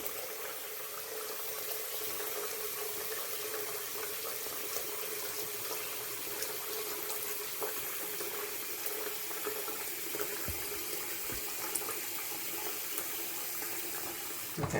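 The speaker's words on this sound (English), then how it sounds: "Put a little bit of water in there." Water runs steadily into the reservoir of a hair steamer being filled at home, a soft, continuous trickle and splash heard close by for the whole stretch with no voices.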